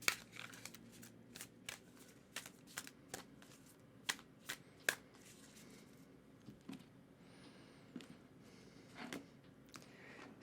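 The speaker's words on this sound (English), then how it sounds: "I'm going to go ahead and give the deck a shuffle for you" A deck of tarot cards is shuffled in a series of quick riffling bursts with short pauses between, close and fairly soft, with no talk.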